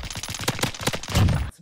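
Rapid automatic gunfire from Call of Duty: Warzone Pacific, a tight run of loud close shots in quick rhythm ending in a heavier burst before cutting off, with no talking.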